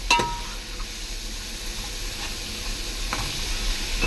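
Food sautés in a pan with a soft, continuous sizzle and hiss, broken by a few brief clinks of stirring.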